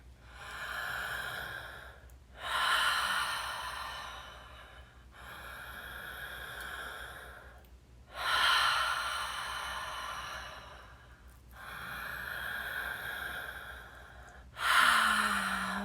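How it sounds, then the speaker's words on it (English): Deep connected breathing in and out through the mouth, slow alternating inhales and exhales in a steady cycle of about six breaths, close and fairly quiet, with no talking. "Breathing deep connected breaths in and out through the mouth"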